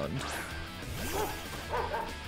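A dog Pokémon cries out in Pokémon Scarlet, a short sequence of bark-like yelps with sweeping pitch over game battle sounds. A voice talks faintly underneath.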